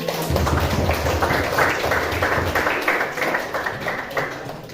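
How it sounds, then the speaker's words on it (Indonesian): A classroom group claps together in a sustained round of applause lasting several seconds, dense and fairly close, gradually thinning toward the end. "kita berikan aplaus pada kelompok 1"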